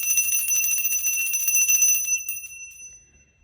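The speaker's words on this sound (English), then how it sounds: "I'm going to ring my bell" A small hand bell is rung to clear energy in a quiet room, its bright, high tones sustaining steadily and then fading away alone without any talk.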